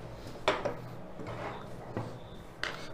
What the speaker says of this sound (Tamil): இப்போ ஸ்லீவ் கட் பண்ணிக்கலாம்.